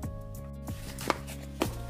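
Thin meat slices for dendeng are pounded flat, with a few sharp, spaced thuds up close over a low steady background hum.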